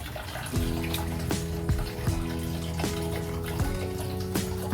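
Water pours and splashes steadily into a small backyard tilapia pond being filled, with a gurgling flow and repeated low knocking pulses underneath, no talking.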